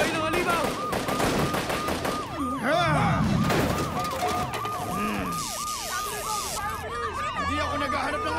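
Bursts of gunfire in a Filipino children's TV action show mixed with a wailing emergency siren and dramatic sound effects, loud and busy throughout, with shouting voices in the scene.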